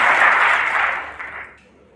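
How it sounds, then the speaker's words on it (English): Audience applause at a snooker match, Champion of Champions 2021, John Higgins vs Yan Bingtao: a dense, loud wash of clapping that fades off toward the end of the two seconds. "She deserves a round of applause."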